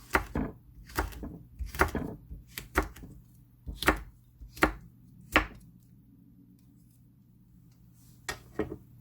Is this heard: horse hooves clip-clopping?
no